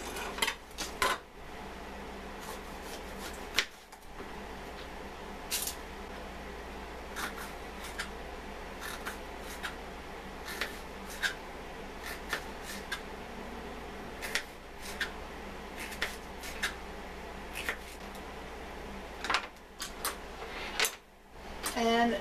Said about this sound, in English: First I'm going to cut up the pepper.